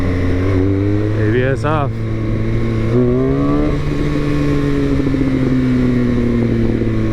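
Motorcycle engine idling and revving in short bursts before a clutch wheelie, a steady loud drone with rising and falling pitch sweeps while someone talks over it.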